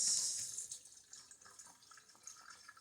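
Liquid from a can of wild-caught pink salmon drains into a sink, a close watery trickle that is strongest at first and then tapers into scattered soft drips.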